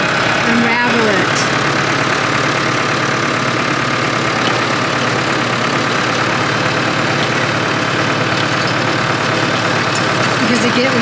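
A garden tiller engine runs steadily at close range, a loud, constant, rough mechanical drone that fills the whole stretch without pause, with a voice speaking briefly near the start.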